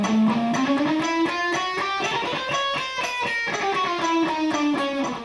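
Electric guitar picking exercise played against a metronome, a steady stream of evenly spaced picked notes, with a melodic line rising and falling over a constant pulse at a moderate, even level.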